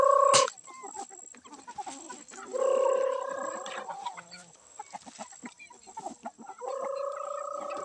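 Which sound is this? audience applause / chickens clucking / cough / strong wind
chickens clucking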